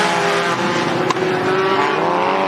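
Sport compact race car spinning out on a dirt raceway during a feature race, with a loud steady roar of engines from the field filling the scene throughout.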